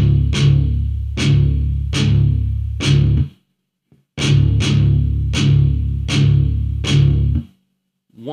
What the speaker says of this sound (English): I'm doing chunks on the bottom 3 open strings with them muted